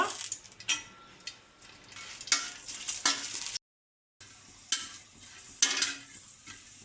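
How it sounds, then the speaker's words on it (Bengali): Dried red chillies fry in soybean oil in a pan, a soft sizzle beneath irregular scraping stirs, with a brief silent gap midway. "এখন আমি আগে শুকনো মরিচগুলো ভেজে নেব।"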